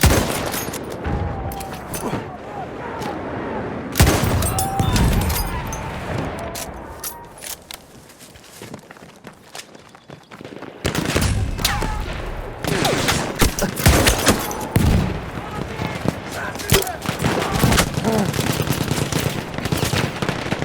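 Automatic machine gun fire in the Battlefield 1 video game, with rapid bursts of shots that come in heavy volleys, a quieter lull in the middle, then dense continuous fire, close and loud.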